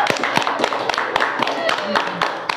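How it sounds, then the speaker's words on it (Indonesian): A podcast audience claps in a brief burst of scattered hand claps, sharp irregular slaps close by under a low murmur of voices. "Sekali tepuk tangan dulu atuh."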